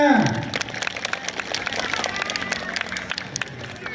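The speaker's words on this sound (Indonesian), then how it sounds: "Tepuk tangan semuanya." Children clapping together at a storytelling gathering before breaking the fast, a scattered patter of small hands following a raised voice at the start, moderately loud and fading slightly.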